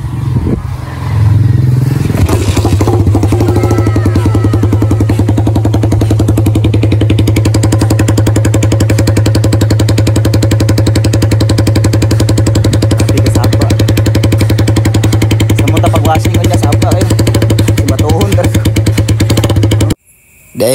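A motorcycle engine idles loud and close with a steady low drone and rhythmic mechanical clatter, running continuously for about twenty seconds before cutting off abruptly near the end.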